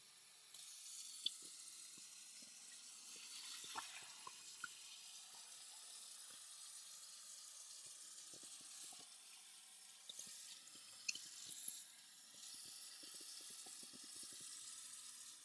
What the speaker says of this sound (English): off camera, I am trying to rinse out the Ziploc bag for the chicken